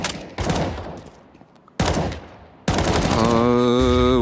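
Bursts of gunfire in a competitive shooter match at a pro esports league event, rapid loud volleys cut by sharp pauses, then a steady ringing electronic tone over the shots.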